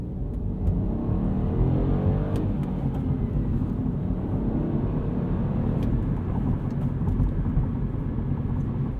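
Low, steady engine drone of a 2020 Mini Cooper Hardtop 2-Door with a manual gearbox cruising in fifth gear around 1800 rpm, heard from inside the cabin with road rumble underneath.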